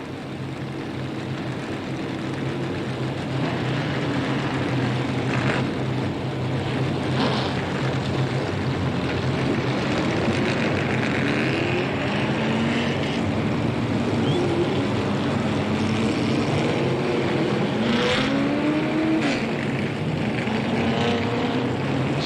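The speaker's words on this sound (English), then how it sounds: "the second 75-lap feature engines fire up on the front stretch" Several race car engines idle and rumble together on the front stretch before a 75-lap feature at Slinger, a steady, dense drone with occasional revs rising above the crowd of motors.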